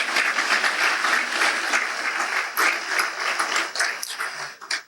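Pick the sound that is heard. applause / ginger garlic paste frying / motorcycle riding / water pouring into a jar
applause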